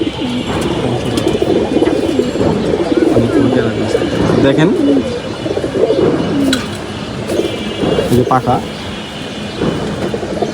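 Cooing from a flock of loft-kept working pigeons, young birds of 2024 among them, comes as layered low rolling calls that continue steadily while someone talks over them nearby.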